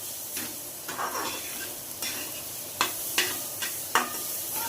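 Grated fresh coconut dry-roasting in a pan on high heat, soft hissing punctuated by several sharp scraping strokes of a spatula, close and intermittent.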